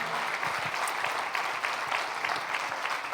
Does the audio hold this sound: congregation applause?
yes